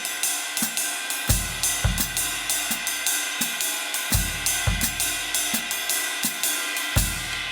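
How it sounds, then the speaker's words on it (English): Ride cymbal and hi-hat playing a Mozambique drum groove on a kit, a steady shimmering pattern of bright cymbal strokes with periodic low thuds, close and fairly loud with no talking. "Let's start with just the ride and the hi-hat"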